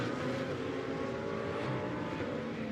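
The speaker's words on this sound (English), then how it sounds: "The Audi down through the gears" An Audi GT2 race car entering the pit lane sounds a steady, fairly distant engine drone, faint and continuous, while it shifts down through the gears toward the speed limit.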